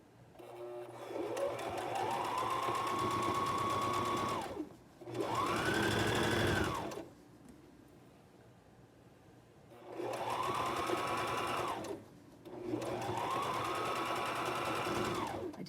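A sewing machine runs stitches along the edge of a quilt at about 1/8 inch, whirring up to a steady hum in four close bursts, each ramping up and then stopping, with short quiet gaps between them.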